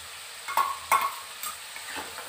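A spoon stirs food in a pan with a few distinct scraping strokes over a soft background sizzle. The strokes are close and spaced about half a second apart, with no voices.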